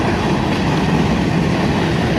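A freight train rolls past in Carlisle as a loud, steady rumble of wheels and rail cars. The clickety-clack continues evenly with no pause.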